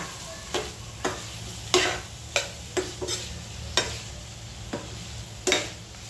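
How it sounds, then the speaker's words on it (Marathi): Drumstick pods being sautéed in a pan for a Maharashtrian shevga bhaji, with a steady low sizzle under sharp, irregular scrapes and clinks of a spoon stirring against the pan, about ten strokes, close and alone. "शेंगा छानपैकी परतलं."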